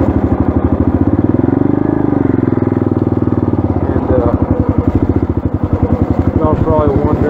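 Dirt bike engine with a loud, pulsing, rhythmic putter heard up close throughout as the rider moves along, the pitch rising and falling with the throttle.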